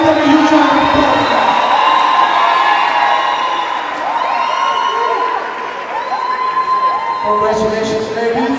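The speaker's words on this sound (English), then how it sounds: "Let's give them a huge round of applause." A large crowd at a Soweto basketball tournament cheers, whoops and shouts for a women's team, loud and sustained throughout, with children's voices and scattered applause in the mix.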